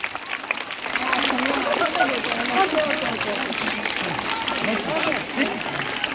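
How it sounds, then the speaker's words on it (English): Young students keep clapping at a school Diwali and Chhath Puja celebration, a busy, ongoing scatter of claps blended with chatter and voices throughout. "Keep clapping, children, keep clapping."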